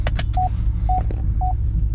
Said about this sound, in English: I know, you're beeping. We're in a garage backing out.